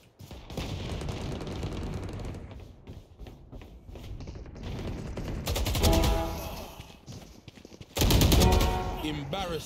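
Automatic rifle fire in Valorant emptying a full magazine, rapid continuous bursts that swell loudest near the end, with a voice talking in the background.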